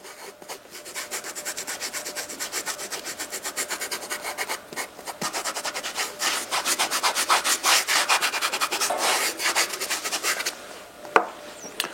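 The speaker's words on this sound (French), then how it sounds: "il existe des gommes détachantes spécifiques, comme celle-ci, qui vous permettront d'estomper légèrement la tache" A stain eraser scrubs back and forth over the suede of a Birkenstock sandal, a close, steady run of dry rasping strokes that grows louder and faster before stopping near the end.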